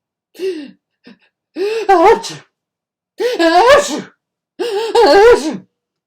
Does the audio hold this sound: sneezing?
yes